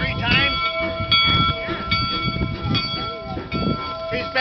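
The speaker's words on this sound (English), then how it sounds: "blew the whistle 3 times." A locomotive whistle sounds in repeated blasts at a Transcontinental Railroad joining event, loud and near, with people talking over it.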